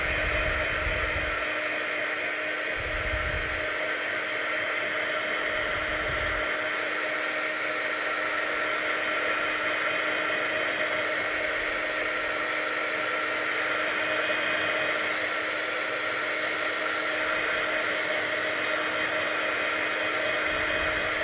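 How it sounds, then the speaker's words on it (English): A heat tool drying watercolor paint, blowing a steady, loud hair-dryer-like whoosh with a constant whine for the whole stretch, plus a few low rumbling bursts of airflow early on. "I am going to pick up my heat tool and try to put it in"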